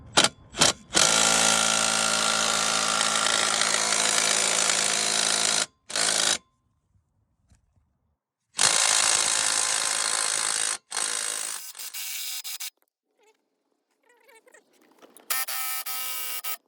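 A brushless battery impact tool hammers at a bolt on an Audi 2.0T turbo engine: a loud, dense rattling burst, a brief stop, a second long burst, then quieter short bursts with gaps of near silence between.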